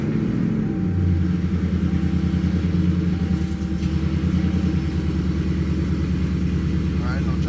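A Dodge 392 Scat Pack V8 with newly installed RIPP supercharger coil packs runs close and loud, a steady rumbling idle with a brief rev near the start, while people talk over it.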